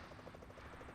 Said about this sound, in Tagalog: Helicopter ulit.